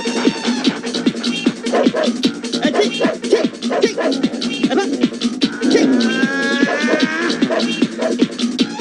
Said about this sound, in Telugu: అది నిజం కుక్కాదే.